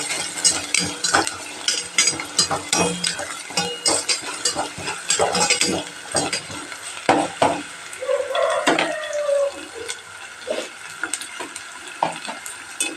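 Chopped onions fry in a pan with salt, a steady crackling sizzle broken by repeated scrape-and-stir clatters of a spatula against metal, close and busy throughout with no talking.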